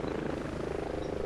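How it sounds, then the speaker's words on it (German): In Ghost Recon Breakpoint, a helicopter drones steadily at moderate distance as it flies away from an enemy outpost, a short continuous rotor hum with no talk. "der Heli hat nichts gefunden. Der fliegt wieder weg, so wie es aussieht."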